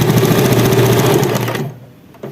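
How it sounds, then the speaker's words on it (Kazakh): A sewing machine runs steadily, stitching a diamond-quilted velour seat cover with a fast, even mechanical whir for about a second and a half before stopping abruptly, leaving quiet room tone. "осы жерін бірден машинкеге салып тігіп аласыздар"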